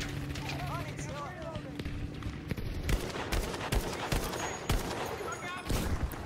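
Gunfire in the Battlefield V video game: repeated sharp shots and bursts, some in quick clusters, run through a busy battle soundscape while a voice talks over the action.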